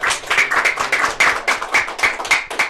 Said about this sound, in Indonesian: Tepuk tangan dong untuk SMK PGRI